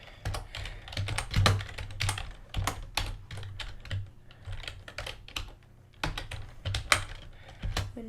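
Continuous typing on a computer keyboard while coding a top-down action adventure game, with rapid, uneven clusters of close key clicks and brief pauses between bursts.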